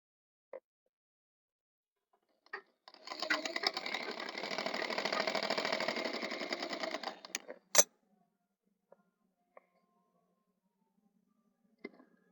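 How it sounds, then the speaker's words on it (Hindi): A sewing machine stitching a blouse runs in one steady, close whirring burst of about four seconds, set between scattered faint taps and clicks in an otherwise quiet room. "अब इसको ऊपर से एक सिलाई चला लेंगे।"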